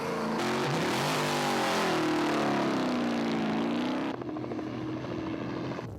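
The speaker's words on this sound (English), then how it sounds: "By class, the cars launch one after the other in 1-minute intervals." A car launches at the start of the Silver State Classic open-road race, its engine revving hard and rising in pitch as it pulls away, loud and close, then dropping to a lower drone.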